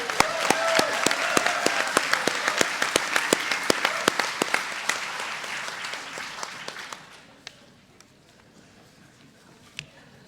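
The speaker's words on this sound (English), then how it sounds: "Give him another round of applause." Conference audience applause at a tribal nations gathering, a crowd clapping briskly with sharp individual claps, then thinning out to a few scattered claps and fading.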